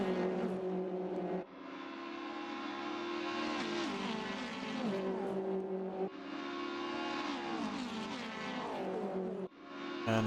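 Touring cars, a Honda and BMWs among them, race through the narrow Macau street circuit, their engines droning loud and steady with rising and falling revs that shift pitch as the cars pass.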